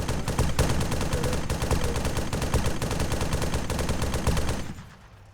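Sustained automatic gunfire in the military shooter game ARMA 3, a dense, loud, continuous burst of rapid shots lasting several seconds before cutting off abruptly into quiet.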